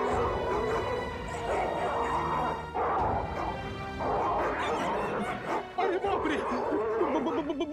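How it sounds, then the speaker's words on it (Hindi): Several dogs bark and yip continuously, fairly loud and overlapping, with some whimpering mixed in, in a scene from the TV series CID. "कुत्तों के भौंकने की आवाज पीछे की तरफ से आ रही है"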